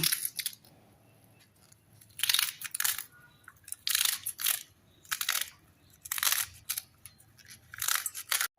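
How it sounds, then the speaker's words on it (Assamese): Sharp crunchy cuts as a knife finely chops water spinach in short bursts, several blade strokes at a time with brief pauses between, close and clear against a quiet background. "কলমৌ শাকখিনি মিহি মিহিকৈ কাটি ল'ম।"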